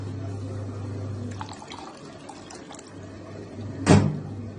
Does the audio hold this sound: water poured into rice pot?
yes